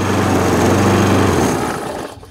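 A little Tecumseh engine on a push lawn mower runs close and loud with a steady buzzing drone, then winds down and cuts out near the end.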